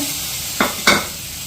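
Steady loud sizzling of chopped eggplant frying in hot groundnut oil, with two brief bursts of stirring or scraping partway through.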